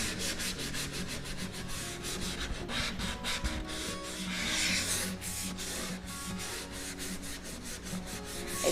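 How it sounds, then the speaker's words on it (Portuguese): Steady back-and-forth rasp of hand sanding along the grain of a pine wood box, close and continuous, with repeated rhythmic strokes and no talking. "no sentido do veio, é onde você vai lixar"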